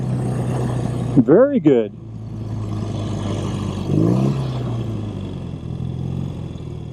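A BMW R75/5 motorcycle engine runs smoothly at high revs as a steady low hum underneath, with someone talking over it and briefly rising in pitch.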